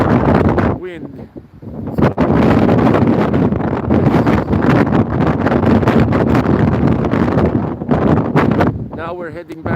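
Heavy wind on a stormy winter morning in Lapland, Sweden, rumbles and buffets against a phone microphone throughout, with brief bits of a voice talking underneath the gusts.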